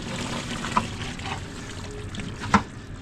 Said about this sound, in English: Add the rest of the water.